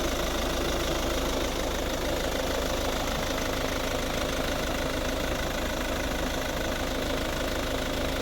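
A 2010 Volvo V50 1.6 HDi diesel engine idles steadily and evenly, a low continuous rumble with a faint knocking texture, close by and unbroken throughout.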